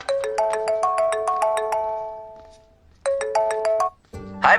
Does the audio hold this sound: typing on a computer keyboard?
no